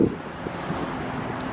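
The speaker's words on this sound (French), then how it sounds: "il y a du vent" Outdoor wind buffets the microphone in a steady low roar with slight gusts throughout, loud and close, with no other sound standing out.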